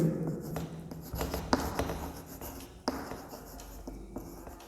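Marker or chalk writing on a board during a physics lesson, a steady scratchy rubbing of strokes with short pauses and a few sharp taps, close and moderately loud with no talking.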